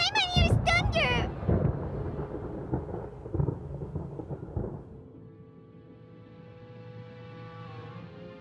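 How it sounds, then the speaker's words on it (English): Thunder in Genshin Impact rolls in with a sharp crack, then a long rumbling decay under a stormy wash, fading into a quiet tonal ambience. "Paimon hears thunder!"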